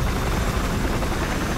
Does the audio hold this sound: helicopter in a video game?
yes